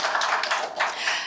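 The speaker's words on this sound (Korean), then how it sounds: "큰 박수 부탁드립니다." An audience at a book talk claps in a short, dense burst lasting just over a second, close and fairly loud with no voices over it.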